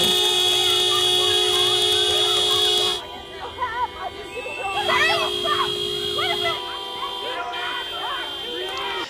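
Sustained car horns blare for a few seconds, then cut off as a crowd of voices shouts and talks over street noise.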